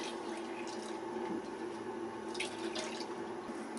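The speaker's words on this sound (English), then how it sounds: "Put a bit of fresh water in there." Fresh water runs steadily into a pot during outdoor cooking, a faint continuous pouring stream with small splashes and drips, no voices.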